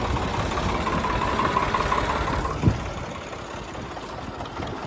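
A tractor engine idles steadily at close range, running hot after hauling a loaded trolley, with a constant low rumble and one brief knock partway through.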